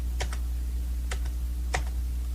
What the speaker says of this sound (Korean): 키보드의 위쪽 화살표 키를 누르면 이전 실행했던 것들이 이제 순서대로 나와요